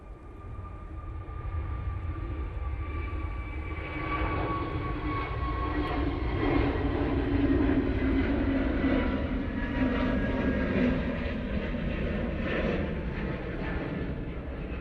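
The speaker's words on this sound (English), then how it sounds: "Right, Jet2 off to Lanzarote." Jet2 passenger plane taking off from Manchester Airport, its engines making a broad, sustained roar with whining tones that swells and holds steady from a moderate distance.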